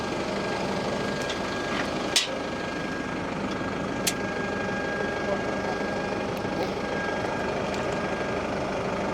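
A farm tractor idles during harrowing work, giving a steady low engine drone that runs throughout, with a couple of brief clicks.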